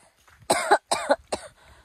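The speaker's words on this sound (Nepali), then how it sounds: "मलाई चाहिँ टु मच खोकी लागेको छ घाँटी दुखेको छ" Three harsh, close coughs in quick succession from a person with a sore throat, each a short loud burst separated by brief pauses.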